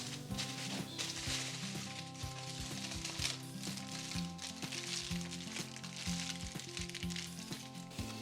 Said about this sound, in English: Bringing the aluminum foil together, we're going to wrap up the meat and fold it up